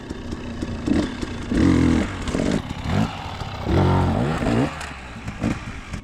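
A dirt bike revs hard in repeated bursts while crossing a log obstacle at elevation, the engine surging, dropping and surging again, close and loud with some clatter between pushes.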